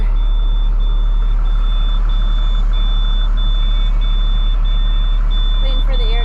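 Farm truck on a dairy farm idling while its air brakes build pressure, a loud steady diesel rumble close by with a regular electronic beep repeating about twice a second throughout.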